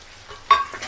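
Ginger-chili paste hits hot tempering oil already holding cumin and sesame seeds, producing a sudden short burst of sizzling midway that fades quickly.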